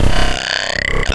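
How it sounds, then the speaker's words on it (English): A single loud, deep, drawn-out burp sits close to the mic and fills the whole moment, raspy and throaty from start to finish. "he takes my burps and brings them into Serum and makes them into gnarly bass growls"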